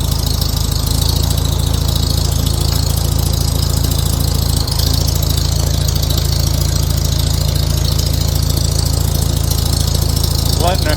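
Farmall H tractor engine idling steadily and loud, a constant low throb that holds through the whole stretch as the clutch is eased out slowly, with no talk over it.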